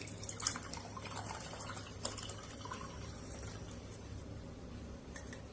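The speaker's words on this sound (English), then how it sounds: "tea gets poured" Tea pours through a strainer into a glass, a faint, soft trickle and drip of liquid with a few small splashy accents over a quiet background.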